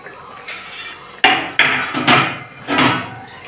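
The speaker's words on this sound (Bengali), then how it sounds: "ঢাকাটা খুলে দেখব" A lid lifted off a cooking pot of spiced potatoes for chhanar dalna, with a sharp metallic clank followed by a few scraping, clattering knocks of metal cookware close by.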